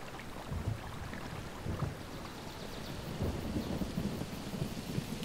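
Steady rainfall with low rumbling thunder rolling underneath in the video game Kingdom, a continuous wash of rain that swells slightly toward the end.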